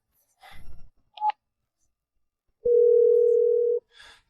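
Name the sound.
telephone call being dialed, dial tone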